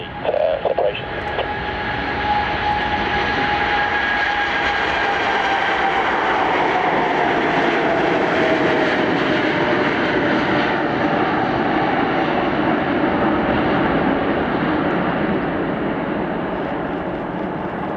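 A Boeing cargo jet takes off at Doncaster Airport, its engines roaring loud and steady throughout, with a whining tone layered over a broad rumble, and no talk.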